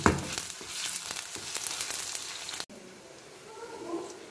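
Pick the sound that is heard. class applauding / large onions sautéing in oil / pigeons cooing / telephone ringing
large onions sautéing in oil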